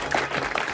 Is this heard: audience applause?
yes